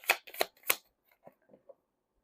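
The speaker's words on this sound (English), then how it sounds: "You saw me shuffle." Deck of tarot cards being shuffled close up: three crisp riffling bursts followed by a few softer card taps and slides, then quiet.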